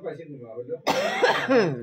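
A person with a cold coughs once, a short rough burst that breaks into a stretch of nearby talking and stays close and moderately loud.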